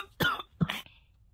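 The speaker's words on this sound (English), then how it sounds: "I couldn't cut that cough off fast enough" Two short, sharp coughs close to the microphone, one right after the other, followed by quiet.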